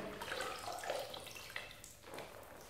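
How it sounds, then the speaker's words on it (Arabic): Water splashing and trickling as a man scoops a handful during a ritual full-body wash, soft running and dripping sounds close by at low volume. "كنهز بالحفنة ديال الماء، كنهز الحاسية ديال الماء"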